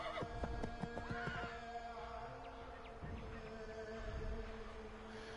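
Horses neigh and whinny loudly in a snowy scene in the game Assassin's Creed 3 as they bolt, with several rising whinnies in the first seconds over a steady ambient bed and faint hoof clops.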